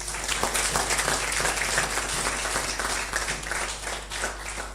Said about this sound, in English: I think that requires a louder and heavier clap.